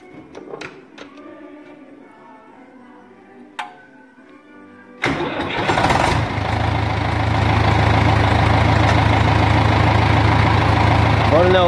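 A quiet room with a few small clicks, then an Ursus C4011 tractor's damaged diesel engine starts up loudly and settles into a steady, rumbling idle close by.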